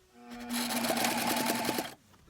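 Sewing machine stitching a fabric liner for a framed storage box, a steady close mechanical whir with rapid rhythmic needle clatter, running about a second and a half before stopping.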